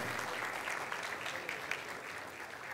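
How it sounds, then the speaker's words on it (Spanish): Audience applause at a real estate expo in Paraguay, a steady wash of many hands clapping at moderate loudness, continuing evenly throughout with no talk over it. "Yo les pido un aplauso para esto"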